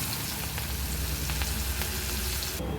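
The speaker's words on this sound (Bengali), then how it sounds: "বেগুন ভাজার তেলে আমি এই যে তেজপাতা ফোড়ন দিচ্ছি, আর এই যে গোটা জিরে ফোড়ন দিচ্ছি, শুকনো লঙ্কা, এবার দিয়ে দেবো পেঁয়াজ কুচি" Chopped onion fries in the oil left from frying brinjal, along with bay leaf, whole cumin and dried red chilli, giving a dense, close sizzle with a few faint crackles and no talking.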